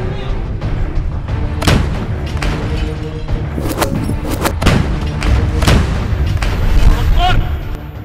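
Heavy artillery shelling by Hezbollah fighters from a southern Lebanese town toward the Israeli border: repeated loud booms and sharp blasts at irregular intervals over a continuous rumbling background.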